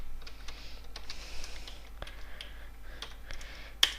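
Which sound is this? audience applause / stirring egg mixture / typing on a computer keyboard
typing on a computer keyboard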